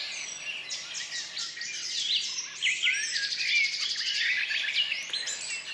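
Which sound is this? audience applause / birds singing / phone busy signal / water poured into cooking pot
birds singing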